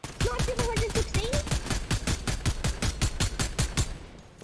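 Rapid, evenly spaced gunshots ring out in Fortnite, a long fast string of sharp cracks at close range, with a voice briefly speaking over the start.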